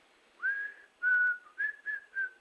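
Someone whistles a TV show theme, a short tune of clear, sustained notes in several separate phrases, close and fairly soft, with no speech over it.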